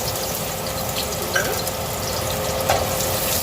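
Garlic frying in a pan after fish, a steady close sizzle with a few light clinks and stirring sounds.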